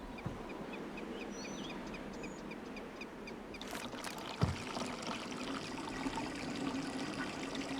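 Water pours and trickles through a pipe to a tree's roots in the video game Riven, a soft steady flow with a brief splash or clunk as it opens, faint bird-like chirps behind.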